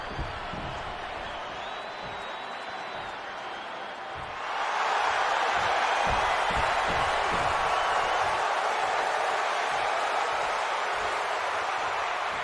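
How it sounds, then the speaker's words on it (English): A capacity arena crowd in the WWE 2K26 wrestling video game erupts, jumping from a low murmur to a loud, sustained roar of cheering partway through. "And this capacity crowd just exploded."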